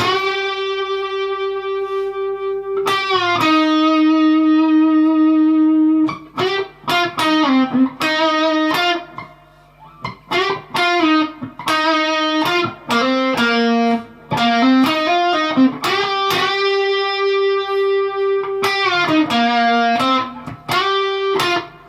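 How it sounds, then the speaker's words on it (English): Electric guitar plays the solo slowly, with clean, singing lead notes, long held tones, bends and short melodic phrases separated by brief gaps, close and steady with no talk. "let's try the whole solo. We'll do it nice and slowly"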